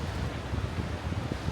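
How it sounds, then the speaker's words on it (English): Strong gusting wind buffets the microphone outdoors on a cold mountain overlook off the Kancamagus Highway in New Hampshire, a loud, continuous rough roar with no voices. "it's freaking windy and cold"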